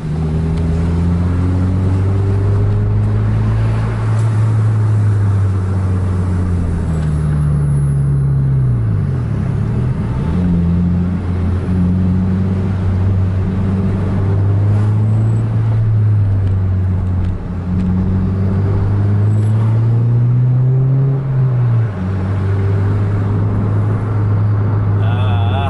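Car engine held at full throttle, a loud continuous roar whose pitch climbs and dips across the run as it accelerates and shifts, close and steady throughout.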